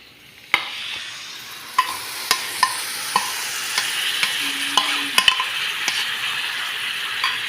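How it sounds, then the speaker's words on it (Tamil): Chicken and spices for a green chicken gravy are sautéed in a pan, with a continuous frying hiss under repeated sharp clicks and scrapes of the spoon against the metal, irregular but frequent, close up and with no talking. "இது எல்லாத்தையும் சேர்த்து நல்லா வதக்குறோம்."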